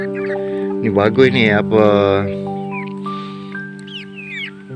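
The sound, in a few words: chickens clucking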